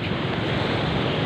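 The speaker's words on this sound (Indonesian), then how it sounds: "Nah, itu datang lagi tuh ombaknya itu." Big ocean waves break and crash against a reef at a clean beach. The surf is a dense, steady roar with wind buffeting the microphone and no voices.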